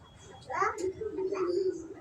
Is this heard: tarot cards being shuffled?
no